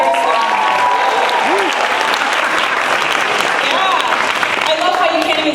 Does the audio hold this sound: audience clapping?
yes